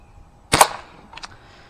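A single sharp crack of a Crosman .177 American Classic air pistol shot close by, followed a moment later by a fainter snap of a pellet hitting a milk jug, in an otherwise quiet outdoor setting.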